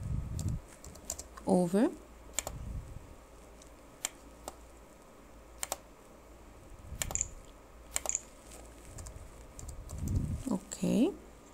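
Quiet clicks of typing on a computer keyboard, a few sparse keystrokes spread out in short runs, with a person speaking softly at intervals.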